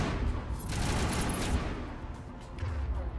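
Dense rapid gunfire from a video game, a sustained crackling volley that fills the whole stretch, loud and close with no pauses.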